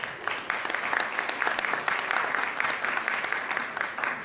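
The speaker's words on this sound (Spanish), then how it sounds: "Y un aplauso, por favor." Steady applause from an audience at a university biology conference session, dense clapping held at an even level for the full stretch with no talk over it.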